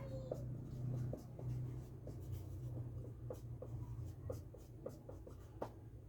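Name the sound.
writing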